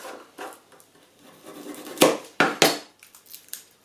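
A kitchen knife topping and tailing a garlic clove on a chopping board gives a few sharp, close cutting taps, the loudest clustered in the second half, with light scraping and rustling between them.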